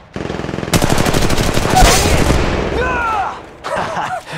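Rapid automatic gunfire from Apex Legends Mobile, starting as a light burst and then swelling into a loud, sustained spray. Overlapping shots and game voices follow as the firing tails off.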